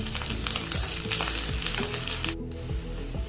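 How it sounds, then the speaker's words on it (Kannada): Mustard seeds splutter and crackle in hot oil with urad and chana dal and curry leaves, a dense continuous sizzle with quick pops, loud and close, with no voices. "ಇಲ್ಲಿ ಸಾಸಿವೆ ಚಟಕ ಅಂತ ಹೇಳ್ತಾ ಉಂಟು"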